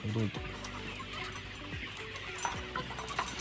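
BV380 chickens about two and a half months old cluck and chatter steadily on a poultry farm housing some ten thousand birds, a dense, continuous flock murmur with scattered sharper calls.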